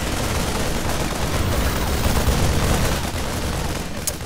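A StarCraft battle as units attack siege tanks, with dense continuous rapid gunfire and explosive game effects filling the mix at full loudness.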